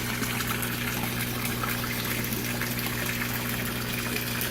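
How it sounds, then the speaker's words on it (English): Loud, continuous rush of water pouring and churning as an aquaponic fish tank refills after draining, steady throughout with a low pump-like hum beneath. "Over here you can see filling it back up"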